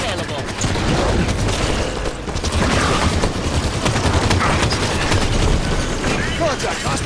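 Dense gunfire and explosions fill a Halo 5 Warzone multiplayer match, a continuous loud barrage of overlapping shots and booms with a voice mixed in.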